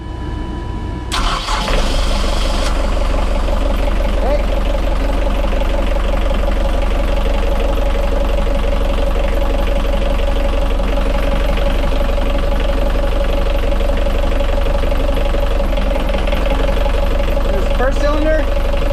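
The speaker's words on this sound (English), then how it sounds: "Okay, so Gav, go start the starboard engine." The starboard diesel engine of a Leopard 46 catamaran cranks and catches, then settles into a loud, steady idle with a rhythmic knocking throb, while people talk faintly over it.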